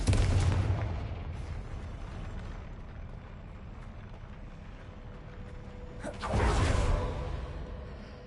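Two whooshing blasts of the Confringo fire spell in Hogwarts Legacy, one at the start and another later, each a loud burst fading into a low rumbling tail.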